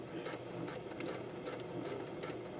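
A sewing machine stitching elastic onto stretchy swimsuit fabric, running continuously with a steady, close mechanical whir and rapid needle rhythm from start to finish.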